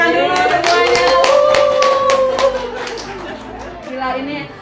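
Guests are welcomed at a villa gathering in Bali with a round of audience clapping, the claps ringing out sharply beneath a voice and crowd chatter that carry on throughout.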